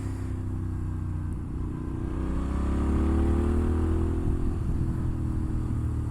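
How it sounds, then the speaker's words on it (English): Moto Guzzi Griso motorcycle with a 90-degree air-cooled V-twin idling and blipped nearby, a deep lumpy throb that swells in a rev and settles back. "just listen to that glorious Italian grumble of a 90-degree air-cooled V-twin"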